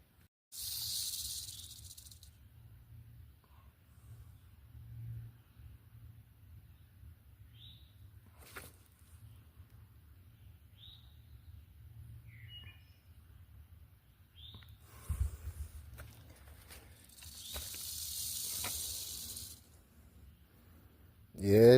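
A rattlesnake on the Appalachian Trail in Pennsylvania rattles in short bursts of dry, hissing buzz at about 0 to 2 and 17 to 20 seconds. A faint low rumble runs underneath and there are scattered small noises.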